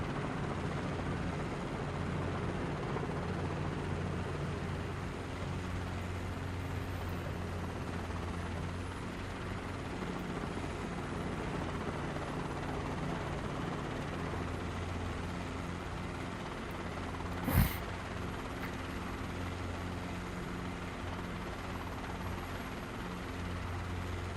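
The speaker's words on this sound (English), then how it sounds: "saw me here in a helicopter and they decided to come fly helicopters" A helicopter flies in a career-mode video game, its engine and rotor droning steadily and evenly at moderate level the whole time, with one short sharp click near the end.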